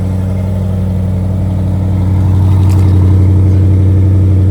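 A 2025 Porsche Cayenne Turbo E Hybrid coupe's engine runs after a cold start on a warm night, a loud, steady low idle that swells slightly in pitch and volume partway through, heard up close with no voices.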